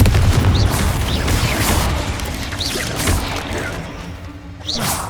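Blast spell impacts in Hogwarts Legacy, a series of booming, crashing bursts with short whooshing pops over a loud, rumbling game background, no voices during the clip.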